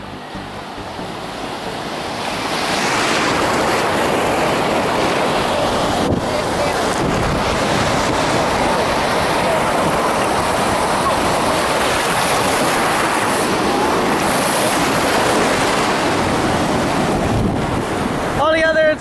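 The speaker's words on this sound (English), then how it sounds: "Waves" Ocean surf breaking on the shore at Myrtle Beach, a loud steady wash of waves with heavy wind buffeting the microphone throughout and no clear voices.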